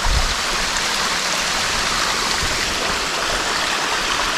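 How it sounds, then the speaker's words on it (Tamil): A small mountain stream at Palkulam Heights rushes down a ravine below, a loud, continuous broadband flow of water with no voices. "சூப்பரான ஒரு சின்ன வாட்டர் ஸ்ட்ரீம் பியூட்டிஃபுல்லாக இருந்துச்சு. கீழே பள்ளத்தில் ஓடிட்டுருக்குது பாருங்கள்."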